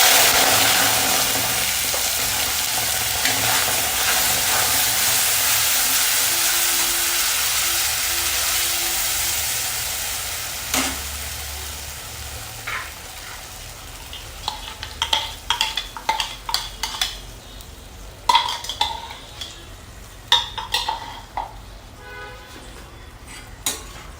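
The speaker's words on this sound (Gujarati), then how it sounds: "હવે આ ટમેટાની પેસ્ટ છે એને સરસ રીતે સાંતળી લેવાની છે એનું તેલ છૂટું પડે ને ત્યાં સુધી આપણે એને સરસ સાંતળી લઈશું" Tomato paste with cumin sautés in hot oil in a pan, with a steady loud sizzle for about ten seconds. The hiss then fades into quieter frying broken by scattered clinks and scrapes of stirring.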